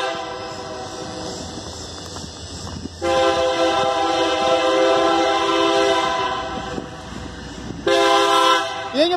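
A Union Pacific 8516 freight train passes a grade crossing in Altamont, Illinois, its loud horn sounding in long sustained blasts that start abruptly, hold, then return near the end over the rumble of the rolling cars.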